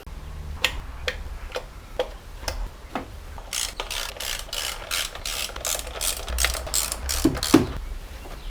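A torque wrench ratchets on a BMW E46/E39 engine near the spark plugs, first in separate single clicks, then in a fast, loud run of close clicking.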